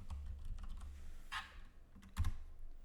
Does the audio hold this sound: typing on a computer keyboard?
yes